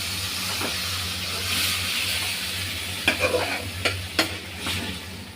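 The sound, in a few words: greens added to a pan and stirred while frying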